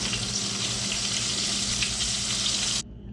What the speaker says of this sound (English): Might add up just a little bit of water to make it not so thick.